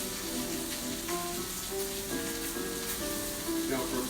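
Steak cooks in a pan with a soft, continuous sizzle, faint and even throughout, with light tonal background sounds.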